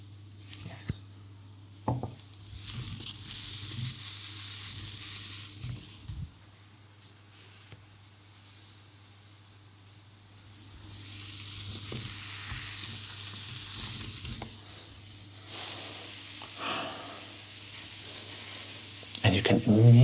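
Mushrooms sizzle and fry in a hot cast iron pan, a steady crackling hiss with occasional clinks and stirring noises, fairly quiet throughout.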